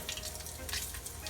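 Floured KFC-style chicken pieces fry in hot oil with a dense, close, continuous crackling sizzle.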